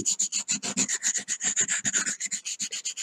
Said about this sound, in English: Sanding his nose up a little bit.